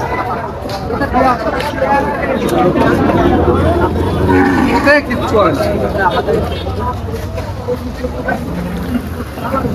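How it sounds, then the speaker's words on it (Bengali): Bullocks at a busy cattle market, with occasional low lowing beneath constant crowd babble and nearby chatter. The scene sounds steady and crowded throughout. "এখানে হচ্ছে বলদ গরু বেশি।"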